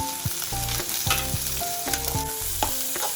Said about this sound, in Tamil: வெங்காயம் வதங்குறதுக்கு கொஞ்சோண்டு கல்லுப்பு போட்டுக்கிட்டோம்னா கொஞ்சம் சீக்கிரமாகவே வதங்கிடும்